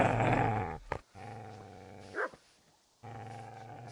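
A dog growls in the medieval video game Kingdom Come: Deliverance, a loud, rumbling snarl that breaks off briefly, flares with a sharp yelp, then resumes low and steady.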